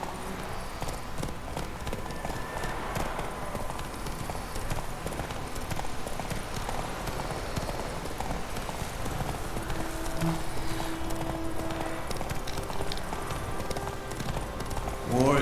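Roach, the horse in The Witcher 3, galloping with fast, continuous hoofbeats under game ambience, while a rider urges it on and a short whinny surfaces near the end.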